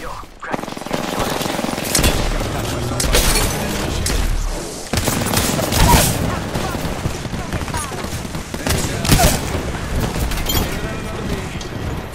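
Gunfire in the Apex Legends shooter: dense, loud bursts of shots and booms rattling almost without pause, layered with mechanical clatter.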